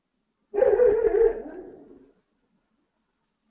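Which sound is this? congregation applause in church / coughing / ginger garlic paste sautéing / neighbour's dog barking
neighbour's dog barking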